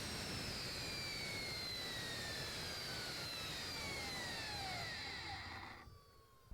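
A jet-powered RC car screams past with a high, whining turbine roar and a falling Doppler pitch, loud and steady before cutting away to near silence at the end.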